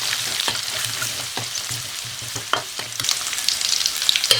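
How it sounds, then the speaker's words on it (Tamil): Cinnamon, cloves, fennel and crushed garlic sautéing in hot oil for drumstick egg thokku, a bright loud sizzle with a low hum beneath and repeated clicks of a spoon stirring, growing busier toward the end. "பட்டை, லவங்கப்பூ, சோம்பு, அது கூடவே இடித்து வச்ச பூண்டு போட்டு நல்லா வதக்கிக்கலாம்"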